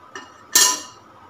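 A metal stand set down inside a pressure cooker being preheated for baking a semolina cake, with a faint tap followed by a single bright, ringing metallic clank that fades.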